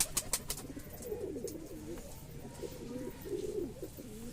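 Kalshera pigeons coo close by in low, rolling, repeated phrases, with a few sharp clicks at the start.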